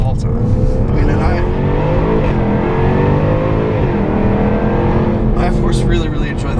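A 2016 Jaguar F-Type R AWD Coupe engine pulls hard and loud, its rising, harmonic-rich roar sustained throughout and easing slightly near the end.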